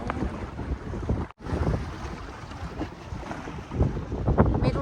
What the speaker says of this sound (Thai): จะได้ยินไม่เด้อ เพราะว่า ลมแรงมากเลยเนาะ